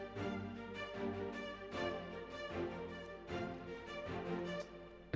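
Short, detached Adagio ensemble staccato string chords played in a rhythmic pattern, bright and layered, with several repeated bursts and no voices.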